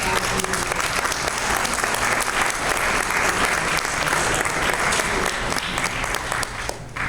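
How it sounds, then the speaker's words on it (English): An audience claps steadily for several seconds, dense and even applause filling the room before tapering slightly at the end. "Let's just give them another round of applause."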